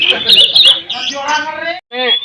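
Oriental magpie-robin at a bird contest gives loud, close, varied chirping and whistled song phrases, with a short pause before a final burst.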